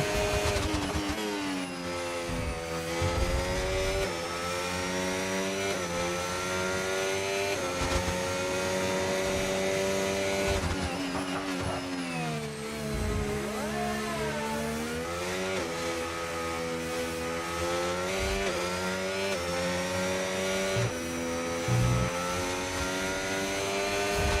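A Formula 1 car in a racing game howls through a lap of the Australia practice session with DRS open, its engine pitch climbing and dropping steadily through gear changes and corners, loud and continuous with no voices.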